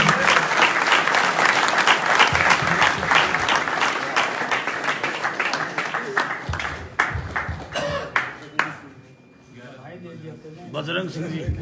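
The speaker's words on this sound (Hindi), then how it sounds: "जोरदार तालियों से स्वागत।" Loud, dense clapping from a rally crowd at a Khetri assembly gathering gives way to scattered, uneven claps, while someone talks through the thinning applause and into a brief lull.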